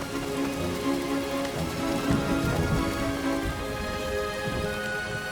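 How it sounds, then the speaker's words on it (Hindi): Steady rain falls in an autumn taiga forest, a dense, even patter of drops on leaves and ground that continues without a break, with no voices. "अरे नहीं, बारिश होने वाली है।"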